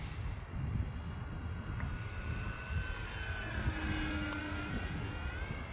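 A foam model airplane flies overhead at dusk, its small motor giving a steady whine that rises and shifts in pitch as it passes, heard fairly clearly over faint outdoor background noise.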